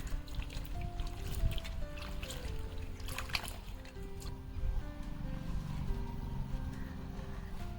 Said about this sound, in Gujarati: તો અડધું આપણું બકાલું ધોઈ ગયો એટલું રહ્યું આપણે ધોઈ નાખીએ મસ્તનું